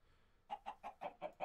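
A Minecraft Stoneblock 2 chicken gives six quick, evenly spaced clucks, close and fairly quiet against a near-silent background.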